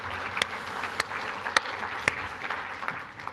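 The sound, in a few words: audience applause at a seminar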